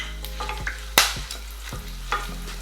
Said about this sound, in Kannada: 1-2 ಇಂಚ್ ಚಕ್ಕೆ, ಒಂದು 4 ಕಾಳು ಮೆಣಸಿನ್ಕಾಯಿ, ಒಂದು 5 ಲವಂಗ, 3 ಏಲಕ್ಕಿ, 2 ಪಲಾವ್ ಎಲೆ, ಇದನ್ನೆಲ್ಲ ಹಾಕಿ ಚೆನ್ನಾಗಿ ಫ್ರೈ ಮಾಡ್ಕೊಳ್ಳೋಣ